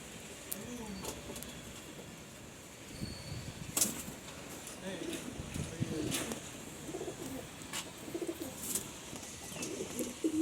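Pigeons, including a male, coo softly and repeatedly close by in a loft, low throaty calls mixed with occasional sharp clicks and faint rustling.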